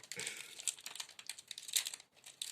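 Pokémon Sword and Shield booster pack foil wrapper being torn and opened, quiet close-up crinkling and ripping in irregular bursts.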